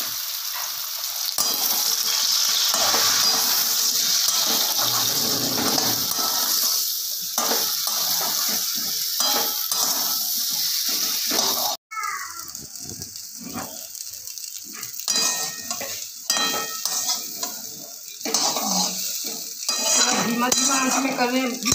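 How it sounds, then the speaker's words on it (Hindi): Okra sizzles steadily in hot oil in a wok and is stirred now and then, a close, continuous frying hiss with scraping stirs that briefly drops away before the sizzle resumes. "कढ़ाई में तेल डाल रहे हैं। तेल गर्म हो गया, अब भिंडी डालें।"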